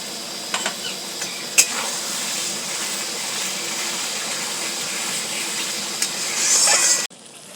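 Masala for chicken biryani sautés in a pan with small splashes of water added, giving a steady close hiss and sizzle with faint scraping, a sharp click near the start and a louder burst of steam near the end.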